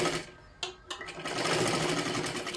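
A sewing machine stitches a three-piece princess-cut blouse, running in a steady fast whir with a couple of brief pauses and restarts, close and continuous with no talk.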